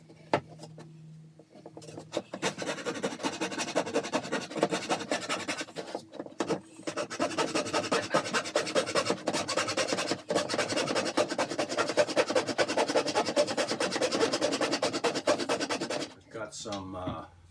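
A saw blade cuts through wood for a wrapped bowl project, giving a steady, close rasping drone that runs for long stretches and is broken by a couple of brief pauses as the cut changes angle.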